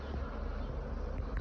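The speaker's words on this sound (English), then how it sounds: "Thousands of bees." A honey bee colony being removed from a glass display hums with a dense, steady buzz of thousands of bees. The sound is loud and close and runs unbroken with no talk.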